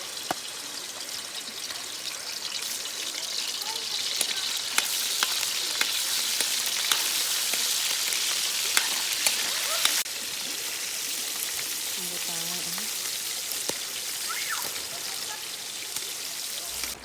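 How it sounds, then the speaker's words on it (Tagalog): Liver fries in hot oil in a pan on a gas stove outdoors by a river, a steady, close, continuous sizzle and crackle with no talk. "Inuna nga muna namin lutuin yung atay para naman ay maluto siya ng maigi."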